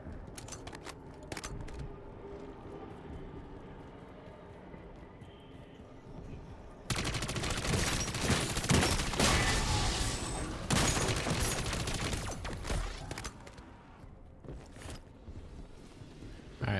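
Gunfire in Modern Warfare Zombies as a player shoots at orbs: quieter scattered shots at first, then a dense, loud sustained burst of rapid firing through the middle, easing off toward the end.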